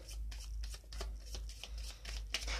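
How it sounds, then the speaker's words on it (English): A deck of board game cards is shuffled by hand in a quick series of soft riffling bursts, close and faint, with no talking. "and then give them a shuffle"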